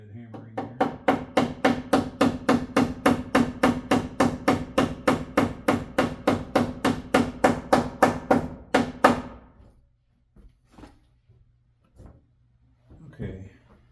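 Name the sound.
backhanded hammering while finishing a bathroom circuit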